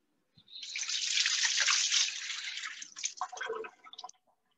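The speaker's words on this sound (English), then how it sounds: "So now that those are in there, going to give this a quick rinse." Kitchen tap water rinsing avocado-covered hands or a utensil while making guacamole: a steady, close rush of running water for about two seconds, then broken splashing and drips before it stops.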